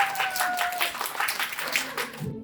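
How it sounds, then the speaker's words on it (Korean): An audience at a talk claps in a short burst of quick, rhythmic applause, with a voice briefly over it before it cuts off abruptly. "박수 주세요"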